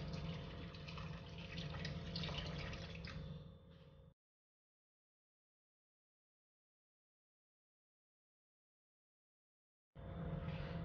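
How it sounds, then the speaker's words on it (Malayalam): Water poured from a tap-like stream into chicken keema in a pan, a steady trickling splash for about four seconds, then silence, with the pouring resuming near the end. "ഇനി ഇതിലേക്ക് കുറച്ച് വെള്ളം ഒഴിച്ചു കൊടുക്കാം."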